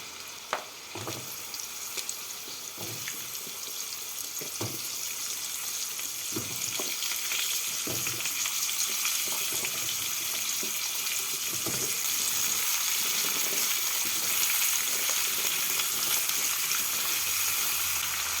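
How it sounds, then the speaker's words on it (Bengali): Mixed winter vegetables fry in oil with a dense, continuous sizzle, broken by periodic stirring scrapes and soft knocks throughout. "সবজিগুলোকে দিয়ে তেলের মধ্যে এক মিনিট মতো ভেজে নেব"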